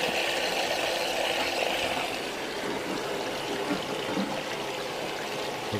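Steady rushing flow of water streaming across the sluice plate of a hog mat, a broad continuous wash with light trickling detail, loud and close with no voices.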